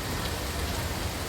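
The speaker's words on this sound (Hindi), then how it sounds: "अभी रात हो गया और अभी भी बारिश हो ही रही है" Heavy rain at night drumming steadily onto a balcony in Ahmedabad, a dense, unbroken hiss of big drops hitting surfaces, loud and close with no pauses and no voices.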